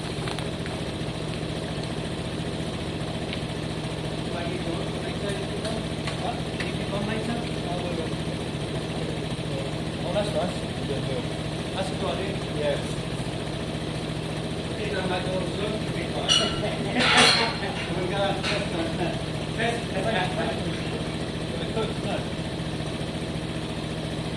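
A Piaggio Fly 125cc scooter engine runs at a steady, low idle-like hum, fairly close and even throughout, with a brief rise in noise partway through and some voices faintly in the background.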